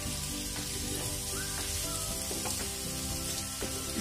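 Boiled eggs fry in a spiced masala in a pan, with a constant close sizzle and occasional soft stirring scrapes under a faint tonal background.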